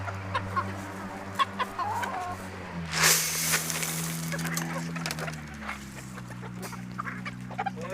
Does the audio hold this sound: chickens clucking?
yes